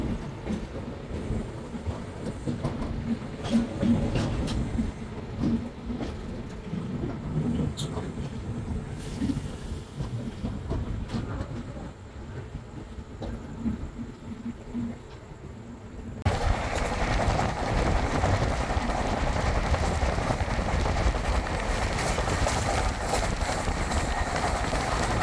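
The Goa Sampark Kranti train at platform 5 of a station gives off a low rumbling hum and faint clanks, and the noise grows louder and broader partway through.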